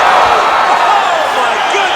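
Arena crowd in the UFC 5 fighting game roars steadily after a knockout between Mike Perry and Carlos Condit, a dense, continuous wash of cheering throughout with a voice over it.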